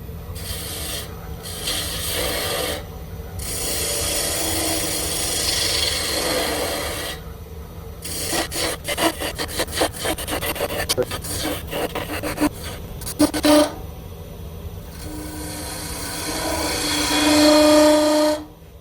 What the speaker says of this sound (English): I'm going to switch over to a spindle gouge.